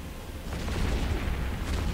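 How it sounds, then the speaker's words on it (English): Rapid autocannon fire from a ship in the Eve Online space game, a dense rumbling stream of low booming shots running steadily throughout at moderate level with no talk. "How did my auto cannons miss?"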